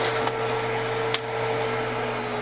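A central vacuum system running with its hose open, a steady, loud suction roar and hum, plus one faint click.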